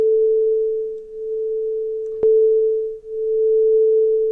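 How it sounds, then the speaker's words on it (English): Detuned FM synth oscillators in the VOPM plugin hold one steady tone from a single held note, slowly beating and phasing in and out, with a brief click partway through. "you can hear the oscillators beating against each other. That's because they're detuned. They're phasing in and out."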